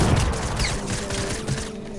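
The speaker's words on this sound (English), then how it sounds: "Oh, nice grenade." A grenade goes off in a video game as a dense burst of rumbling, crackling blast noise that stays loud for about two seconds.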